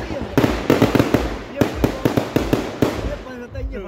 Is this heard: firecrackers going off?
yes